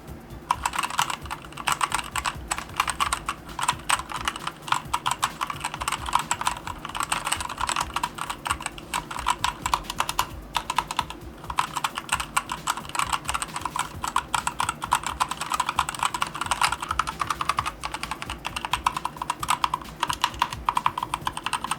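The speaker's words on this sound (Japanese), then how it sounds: "打検音を録音してみました。" Rapid, continuous clacking of keys on a Logicool K855 wireless mechanical keyboard being struck one after another, sharp and fairly loud, with no voices.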